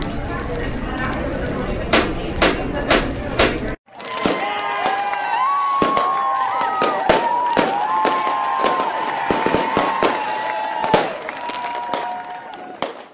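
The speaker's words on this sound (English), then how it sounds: "The fireworks. They're going off already." Cartoon fireworks crackle and burst at a 4th of July show, a dense run of sharp pops and sizzles with whistling tones, following a brief louder opening; speech-like voices sit faintly in the mix.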